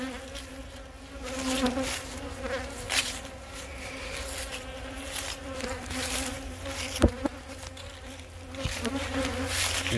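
Bees buzz around an open beehive while its bottom is swapped and feed is checked. A steady, close swarm drone continues throughout, with individual bees whining past and a few soft knocks.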